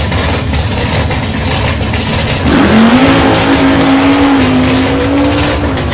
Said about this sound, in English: A much better launch that time, but too much wheel spin.